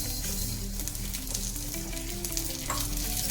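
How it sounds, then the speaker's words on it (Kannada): Moong dal roasting in a hot pan over a lowered flame gives a steady, close sizzle with occasional stirring scrapes, continuous and even, with no voices. "ಹೆಸರುಬೇಳೆನ ಹುರ್ಕೊಳ್ಳೋಣ"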